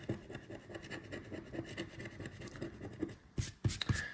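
A coin scratches the coating off an FDJ lottery scratch card in a steady, fast rasping rub at close range, and a few louder, more abrupt scrapes come near the end.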